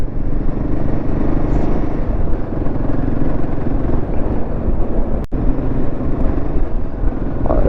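A Royal Enfield motorcycle is ridden on village roads near Pune, its engine a loud, steady, close thrum with wind rush throughout and no pauses.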